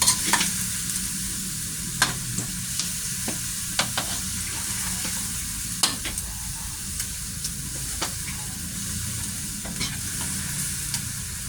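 Minced pork for pad kra pao fries in a pan with a constant hissing sizzle while a utensil scrapes and taps the pan at irregular intervals, close and fairly loud.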